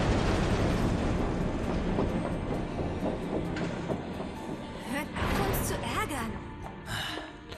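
A train pulling away in the game Final Fantasy VII Remake, its steady rumbling rattle and clatter running throughout under several voices talking.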